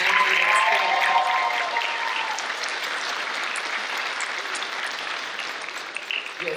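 Applause from a commencement ceremony crowd, a steady broad wash of many hands clapping that holds throughout and eases slightly toward the end.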